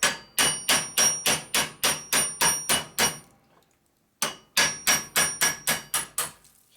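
Hydraulic lifter being hammered out of a 1953-84 shovelhead or panhead lifter block, two runs of sharp, loud, evenly paced metallic blows, about eight and then seven, separated by a short pause.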